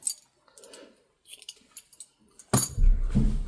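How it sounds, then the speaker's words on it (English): Metal scissors snip through crochet yarn, a few short crisp clicks and rustles up close, ending in a louder burst of handling noise. "I'll cut the yarn, my hook,"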